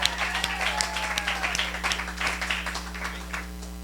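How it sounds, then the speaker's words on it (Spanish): An audience claps through applause at a Spanish-language sermon on legacy, a dense patter of hands that stays strong throughout before tapering slightly at the end. "Un aplauso."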